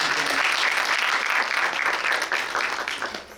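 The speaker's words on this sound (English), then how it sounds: "Give yourselves a round of applause." Audience at a Torch poetry showcase breaks into loud, dense applause that continues strongly before thinning and fading toward the end.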